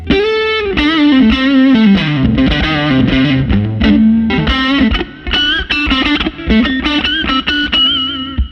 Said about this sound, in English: That's all amp distortion. It's not any pedals or anything.